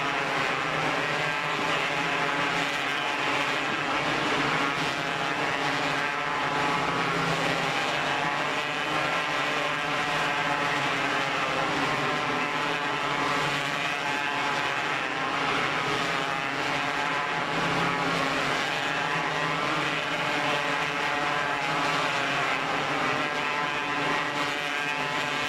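A pack of 270 sprint race cars races at Lanco, engines blending into a continuous, loud, buzzing roar that holds steady with small surges as cars circle the track.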